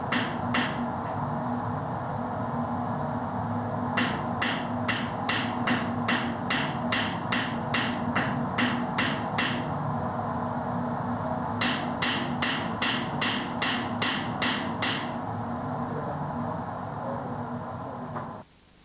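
A hammer strikes precious metal beads, flattening them into a sheet. Two long runs of quick, evenly spaced, bright metallic blows are separated by a short pause over a steady background hum.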